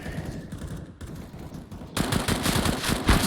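Rapid shotgun blasts from an esports match of a battle-royale video game, starting as scattered shots and turning into a dense, loud burst of gunfire in the second half.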